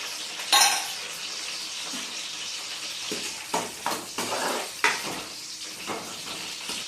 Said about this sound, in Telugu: చికెన్ కర్రీకి ఆయిల్ వేడి రాగిద్దామండి ఆనియన్స్ అని మిర్చి వేసుకున్నానండి